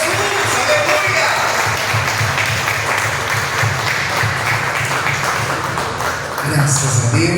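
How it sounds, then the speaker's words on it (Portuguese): A church congregation gives loud, sustained applause for several seconds, dense clapping filling the room, with voices mixed in near the end. "Agora eu te convido a dar a mais forte salva de palmas ao Senhor Jesus."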